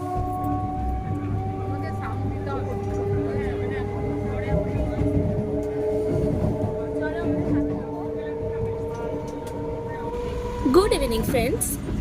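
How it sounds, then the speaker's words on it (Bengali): Continuous low rumble and drone of a moving train, with steady tonal hums and faint voices mixed in. "এখন আমরা ট্রেনে"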